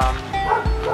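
Dogs at an animal shelter for homeless pets let out two loud, close yipping barks with whimpery tones, a sharp bark near the start and another just past halfway.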